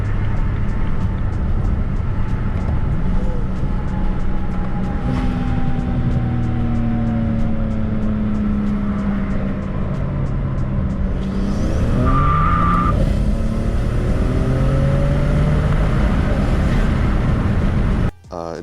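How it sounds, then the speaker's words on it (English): A BMW N54-engined car accelerates hard under sustained, loud engine roar with rising and falling tones, a brief irregular stumble partway through hinting at a misfire, continuing to the end. "I'm actually going to insert an acceleration clip with one of those misfires occurring to give you an idea."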